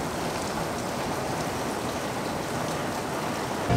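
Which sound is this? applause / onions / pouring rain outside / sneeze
pouring rain outside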